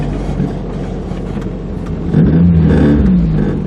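A Nissan 240SX S13 sports car engine hums steadily, then swells into a louder rising rev partway through as it accelerates, close and continuous with no talking.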